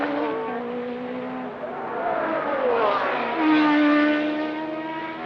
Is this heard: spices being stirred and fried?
no